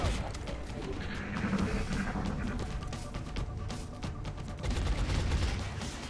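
A volley of gunfire in the video game XCOM Enemy Within, rapid overlapping shots and impacts running through the whole stretch alongside game sound effects, fairly loud with no talking.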